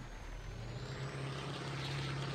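A Kamaz 65228 heavy truck in a video game grinds uphill, its engine a steady loud drone with a sustained low hum and a thin high whine running continuously, no voices.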